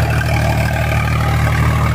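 Eicher 551 tractor engine running steadily with its silencer removed, a loud, close, unmuffled diesel throb with a rough low pulse and no talk over it.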